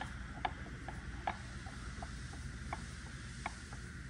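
An Orange Vise on a machining pallet is tightened down, giving a string of faint, evenly spaced ratcheting clicks over a low, steady background hum, without talking.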